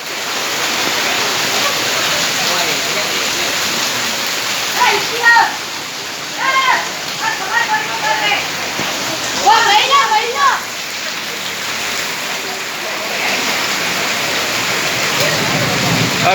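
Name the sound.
torrential rain flooding main market street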